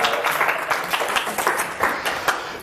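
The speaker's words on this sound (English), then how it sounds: "Give him a round of applause." Audience applause for a volunteer at a live hypnosis training session, a steady wash of many hands clapping close by with scattered individual claps rising through it, no voices.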